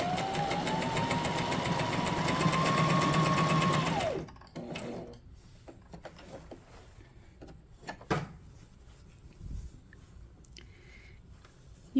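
A Brother SM2700 sewing machine stitches steadily and loudly for about four seconds, then stops, leaving quiet room noise with a few faint knocks and handling sounds.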